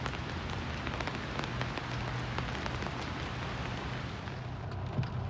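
Steady, dense rain pattering on surfaces in Canada, continuous and fairly loud throughout with no voices.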